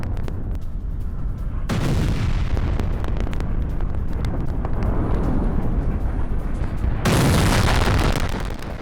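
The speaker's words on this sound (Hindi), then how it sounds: "बमबारी से उठे घातक शॉक वेव की ये तस्वीर देखिए।" Blast from the bombing of a Hezbollah weapon store: a continuous loud, deep rumbling roar that surges sharply at about two seconds and again near seven seconds, with no speech.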